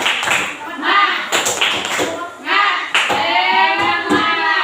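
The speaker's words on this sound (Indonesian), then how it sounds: "Ya, tepuk semangat." A group gives a spirited, rhythmic clap in unison at a school academic supervision coaching session, sharp claps repeating steadily under excited voices calling out.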